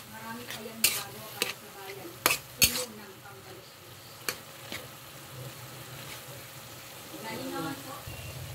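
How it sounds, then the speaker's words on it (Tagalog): A spoon stirs spaghetti sauce with cheese in a pan, giving several sharp clinks and scrapes against the metal over a soft, low sizzle, with quieter stirring toward the end. "Haluin natin."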